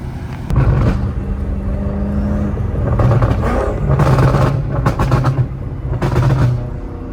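Straight-piped BMW M5, M4 and M3 exhausts rev loudly in a city street, with deep rumbling bursts that swell and fade several times over a continuous engine drone.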